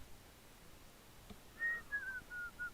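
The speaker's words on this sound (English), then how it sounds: "obviously the whistle will continue when we switch back to Asher" A whistle sound effect for an animation: a few short, high whistled notes in quick succession, faint and thin against a quiet background hiss.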